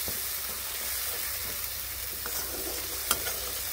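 Spice paste sizzles and fries in a pan while being stirred, giving a steady close hiss with a few light scrapes and one sharp clink near the end, and no talking.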